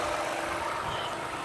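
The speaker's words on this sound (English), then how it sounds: "Underneath the hood, the engine idles smoothly. It's got a Toyota V6 engine in it." A 2012 Toyota Sienna LE wheelchair van's Toyota V6 engine idles smoothly and steadily with the hood open, a constant broadband hum with no talk over it.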